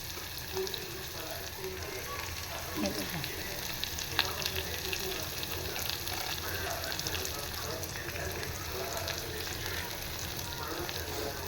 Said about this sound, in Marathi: आणि आता घालणार आहे मी कांदा, कढीपत्ता आणि हिरवी मिरची